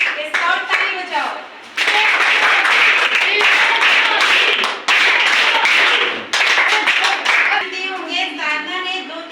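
An audience of scouts at a school success talk breaks into loud bursts of clapping, several surges of sustained applause with short pauses between them, and some speech in the mix.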